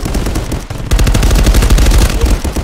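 Continuous automatic AK-47 fire from a video game, loud and close, a rapid rattling stream of shots that briefly pauses and then resumes harder.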